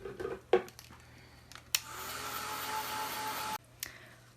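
A hair dryer blows steadily on freshly painted craft paper for about two seconds, a loud broadband whoosh starting abruptly and cutting off cleanly, with a few soft handling clicks around it.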